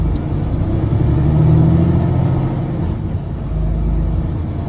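A semi truck climbs a mountain road at about 2,400 altitude, its engine a steady, loud, close drone with a slight swell in power partway through, heard alone without talking.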